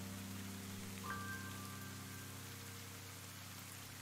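Steady rain in the Ender Lilies video game, a soft even hiss of falling drops over a low ambient hum, with a brief faint chime partway through.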